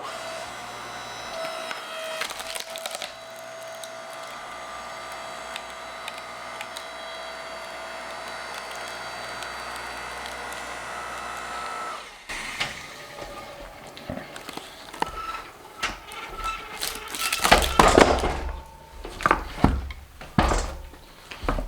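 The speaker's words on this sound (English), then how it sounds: "now we know this little splitter does 15, 16-inch pieces with ease" A BILT HARD 6.5 ton electric log splitter whines steadily at close range, then its motor tone shifts as wood cracks and splits with creaks and snaps, with scattered knocks and clatter.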